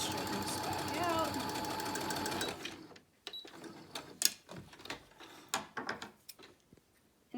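A sewing machine runs steadily while stitching a fabric face mask, then stops after a few seconds, followed by handling clicks and rustling with a person speaking.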